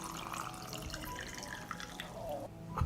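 Hot water pours into jars with a soft, continuous splashing and trickling, close and fairly quiet, broken by small drips and gurgles.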